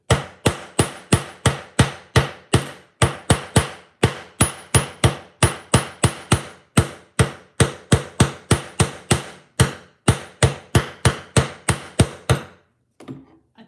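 Metal jewelry wire is struck flat with a hand hammer in a rapid, steady series of loud, sharp blows, roughly three per second in short runs with brief pauses, close by and with no talking.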